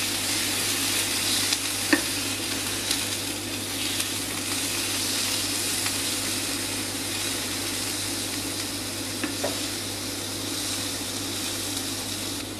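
Lamb pieces sizzle and spit steadily in a hot frying pan alongside potatoes, a dense continuous frying hiss with occasional sharper pops, close and fairly loud with no talking.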